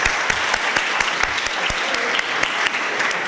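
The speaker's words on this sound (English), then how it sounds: "I'd like to give him a round of applause along with the Shanti team for planning today's session." Audience applause at a lecture session, steady dense clapping from a crowd lasting the whole stretch with a few sharper individual claps standing out, moderately loud.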